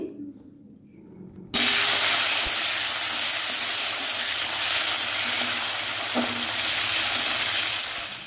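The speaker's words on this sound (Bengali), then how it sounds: "তো প্রথমে তেলের সাথে টমেটোটাকে একটু এইভাবে কষে নিতে হবে" Chopped tomatoes hit hot oil after a quiet moment, bursting into a loud, continuous hissing sizzle that holds steady to the end, with a faint stir or two underneath.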